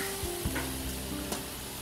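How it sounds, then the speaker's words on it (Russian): Pork brisket laid on a wire grate over a bed of coals in an outdoor smoker, giving a steady broadband sizzle and crackle with a few soft clinks, fairly quiet and continuous with no talking. "И начинаем жарить."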